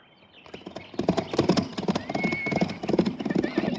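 Horses gallop past with rapid, rhythmic hoof clip-clops that grow louder after the first second, and a horse whinnies faintly near the start.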